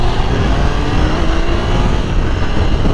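Triumph Tiger 800 motorcycle engine heard while riding through city streets, a steady close rumble with rushing wind noise, no talking.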